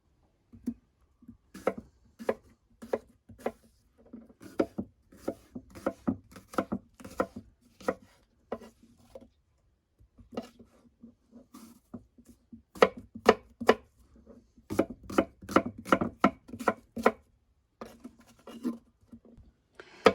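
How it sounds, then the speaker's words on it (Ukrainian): A knife chops apples into roughly one-centimetre cubes rapidly against a cutting board in quick bursts of sharp taps, pausing briefly between runs, close and clear. "Яблучко нарізаю кубиками приблизно 1 сантиметр."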